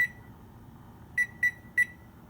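A kitchen timer set for Jamaican cocoa bread baking in a 350-degree oven gives three short, bright electronic beeps in quick succession over a quiet background hum, with no voices.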